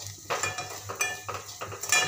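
Spoon stirring red chilli powder, turmeric, coriander powder and salt into hot oil in a pan for capsicum masala, a few scraping clinks against the metal over faint sizzling, close and alone.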